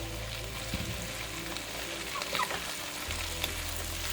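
Zucchini added to onion in a frying pan gives a steady sizzle with a low hum running beneath, and a few soft stirring clicks and scrapes break through partway.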